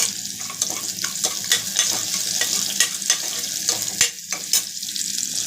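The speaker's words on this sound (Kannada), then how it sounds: "ಇವಾಗ ಈರುಳ್ಳಿ ಹಾಕ್ಕೊಂಡು ಫ್ರೈ ಮಾಡ್ಕೊತೀನಿ" Onion frying in hot oil with spluttering mustard seeds and curry leaves, a dense, loud sizzle broken by regular spatula scrapes and knocks against the pan, without any talking.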